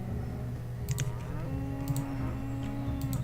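Cattle in the Banished village-building game let out low, drawn moos over a steady background hum, with faint clicks scattered through and no speech.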